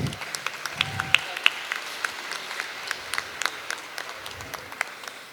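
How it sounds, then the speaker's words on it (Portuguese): Audience applause at a talk on Marighella and resistance to the military dictatorship, a steady patter of many hands clapping at moderate distance, fairly soft and even throughout, with a few sharper individual claps standing out. "Peço palmas, por favor."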